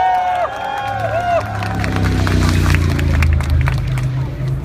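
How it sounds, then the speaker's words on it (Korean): Crowd clapping and cheering at an outdoor presidential election campaign rally in Gwanak district, Seoul, a steady, busy wash of applause with voices and a low tonal hum mixed in. "많이 떨리는데 힘 좀 내라고 박수 좀 쳐주십시오"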